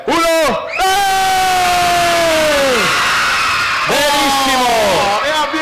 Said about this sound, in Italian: facciamo un mega urlo per tutti i genitori che ci stanno guardando da casa